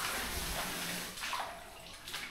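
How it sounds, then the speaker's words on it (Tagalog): Fast floodwater rushes steadily during a monsoon high tide in Navotas, a dense, continuous wash of churning water heard close up, with a slight easing partway through. "ang bilis ng agos ng tubig"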